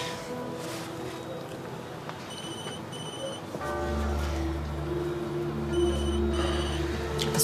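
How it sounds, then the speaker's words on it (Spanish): A telephone rings in two short bursts of electronic trills, then rings again a few seconds later, moderately loud indoors over a low rumbling hum. "Está sonando tu teléfono."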